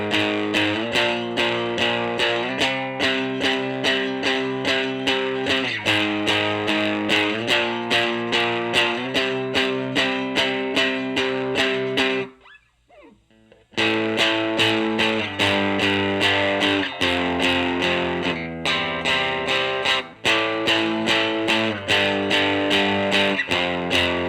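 An electric guitar played through a distortion effect with the tone raised, strummed in steady rhythmic chords that fill the sound loudly, broken by a short pause before the riff resumes.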